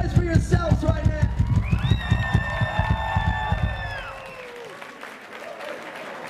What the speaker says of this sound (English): make some noise for yourselves right now